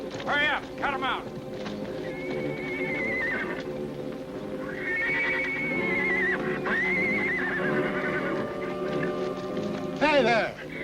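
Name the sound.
horse neighing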